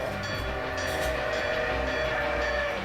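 A sea train from an anime episode rolls along steadily, a continuous rumbling clatter with faint whistle-like tones layered over it, fairly loud and constant throughout with no talking.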